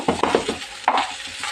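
Okra curry with turmeric being stirred in a pan, a run of quick scraping strokes near the mic, a pause, then another stir over a low sizzle, no voices.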